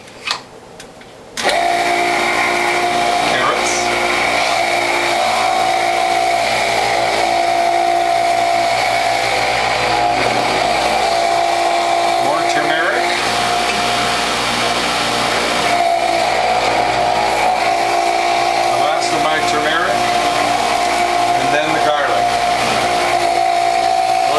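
An electric juicer runs steadily as carrots, turmeric, ginger and garlic are fed through it, a loud continuous motor whine with grinding texture lasting throughout after a brief quiet start.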